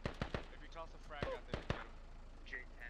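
Scattered gunshots in the military shooter Squad, fired in sharp single cracks and short clusters at a moderate distance, sounding under a commentator's voice.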